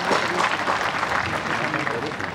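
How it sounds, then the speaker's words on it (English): An audience gives a Vice Chancellor a big round of applause, dense sustained clapping filling the hall, with a voice speaking over it. "give him a big round of applause for the Vice Chancellor"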